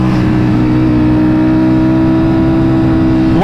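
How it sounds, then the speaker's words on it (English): A 2023 Ducati Panigale V4 engine revs high and holds a loud, sustained, close-up roar with a steady pitch for a few seconds, and no voices over it. "When you rev high, it sounds like a MotoGP bike."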